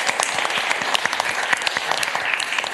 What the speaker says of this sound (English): let's give them a round of applause for all their service